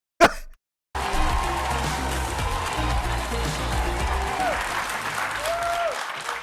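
Sustained applause from a large live television studio audience fills the clip, steady and loud after a brief burst at the start, with cheers rising above it.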